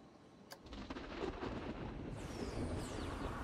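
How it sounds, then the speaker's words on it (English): Rumbling thunder from the Planet Coaster game rolls in after a sharp crack, a steady low roar with rain-like hiss building over a few seconds, no talking. "So this is thunder."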